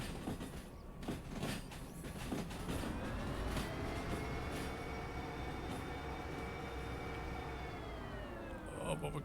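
A train hauling a caboose rumbles along in the railway game Derail Valley, a steady mechanical roll joined by a long, rising whistle-like tone that holds for several seconds before fading, with scattered clicks and talk at the start.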